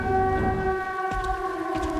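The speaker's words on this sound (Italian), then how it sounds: "La sirena." A siren in the video game Silent Hill 2 Remake wails with steady sustained tones layered in a loud drone, accompanied by a couple of dull thuds.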